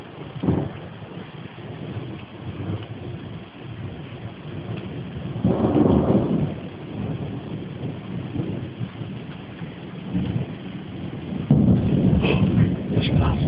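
A thunderstorm rolls through with rain and wind, bringing deep rumbles of thunder that swell around the middle and again near the end. No speech is heard.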